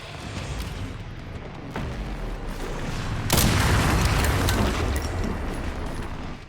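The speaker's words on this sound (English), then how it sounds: "They weren't just using normal weapons. Some of them even had freaking rocket launchers." Zombies fire guns and rocket launchers in Resident Evil Requiem, with dense rattling gunfire and a heavy boom swelling into a loud sustained roar of blasts and debris.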